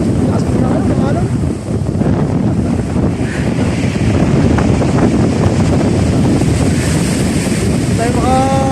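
Strong wind roars across the microphone over the rush of breaking waves at sea, steady and loud throughout, with a faint voice briefly near the end.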